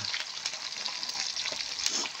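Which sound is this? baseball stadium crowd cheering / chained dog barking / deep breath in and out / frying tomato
frying tomato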